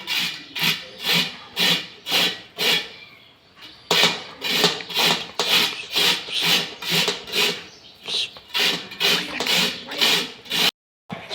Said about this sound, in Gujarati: હવે આપણે ગાજર ખમણી લઈએ